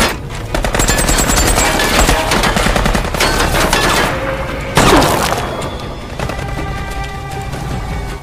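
Loud, dense automatic gunfire rattles through a shootout scene from The Walking Dead, with rapid bursts, a sharp crash partway through and continuous shooting to the end, no talk.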